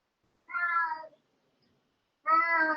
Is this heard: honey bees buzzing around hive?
no